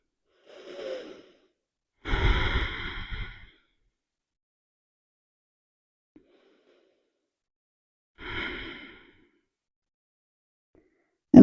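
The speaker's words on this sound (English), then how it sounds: "I'm going to take a few breath cycles here just to relax, to breathe, to notice." Slow, relaxed yoga breathing comes in a few unhurried cycles: a soft breath, a longer audible exhale, then another after a long quiet pause. Each breath is close and gentle, with near silence between.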